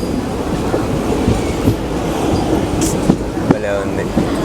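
The Pamani Express passenger train, running Mannargudi to Tirupati via Tiruvannamalai, passes through a station with steady loud rumbling and rhythmic clickety-clack of wheels over rail joints, a faint squeal near the end.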